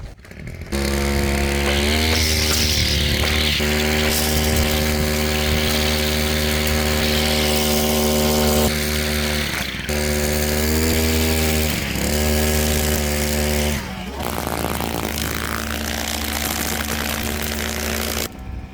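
A small two-stroke brush cutter with trimmer line drones loudly and continuously, its pitch rising and falling as the throttle is eased off and revved again; no talking.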